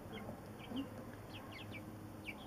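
Quiet chicken vocalizations, a few soft clucks and short high chirps scattered over a low background hum, heard close but faint with no talking.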